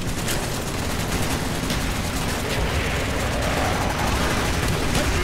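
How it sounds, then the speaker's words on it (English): Aircraft strafing-run gunfire from the Call of Duty Black Ops campaign: a dense, unbroken roar of rapid shots and rumbling blasts, loud and close, holding steady for the full stretch with no voices. "Roger, X-ray, coming in for strafing run."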